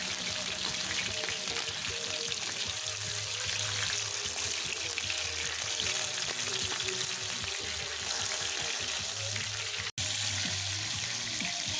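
Meat sizzles steadily in pork fat inside a pan made from a harrow disc, a dense, continuous close-up crackle with one brief dropout near the end.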